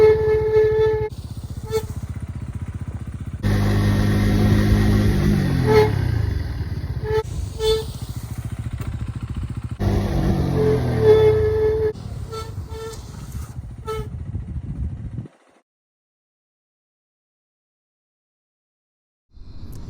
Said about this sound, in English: Cross a line, hit the brakes, stop it as fast as we can safely.